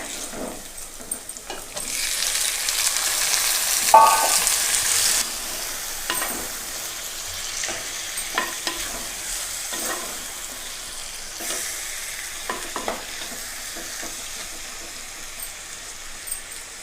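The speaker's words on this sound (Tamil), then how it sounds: "இப்போ வெங்காயம் நல்லா வதங்கியாச்சுங்க வந்து நம்ம சிக்கன் சேர்த்திக்கலாம்" Chicken frying with sautéed onions in a pan, village-style Chicken Chinthamani, a loud burst of sizzle early on that settles into a steady hiss punctuated by scraping stirs, no talk.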